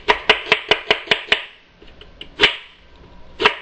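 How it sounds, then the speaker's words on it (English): A kitchen knife slices through an onion on a cutting board in a quick run of about seven crisp, evenly spaced cuts, then two more separate chops after a short pause, close and loud with no talking. "with the onion, all we'll do is that we'll just run our knife"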